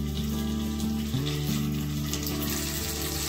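Curry gravy for kaju curry frying in a hot pan, a steady close sizzle and bubbling that runs throughout, loud and continuous with no talk.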